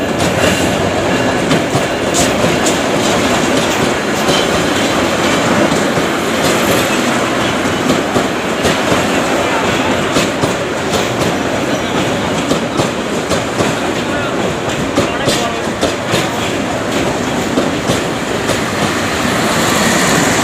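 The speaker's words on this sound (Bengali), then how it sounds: "আমরা এখন রেলের সাউন্ডটা শুনবো, আসলে দেখি রেলটা আসলে কীরকম সাউন্ড করে আসতেছে।" A double-engine train rolls into a station, its rumble and clickety-clack of wheels on rail loud and steady throughout, with faint wheel squeal and no talk.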